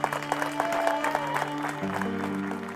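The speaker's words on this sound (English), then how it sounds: "a big round of applause, everyone, for coming out today" A live audience gives a round of applause, fairly quiet and steady with scattered sharper claps, alongside a low tonal hum in the background.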